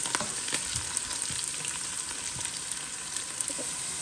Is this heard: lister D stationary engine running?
no